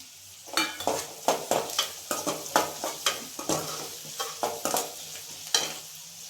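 Onions, garlic and curry leaves fry in a pan for a Rayalaseema-style egg fry, a steady sizzle broken by repeated scraping stirs in a quick, uneven rhythm, close and fairly loud with no talk.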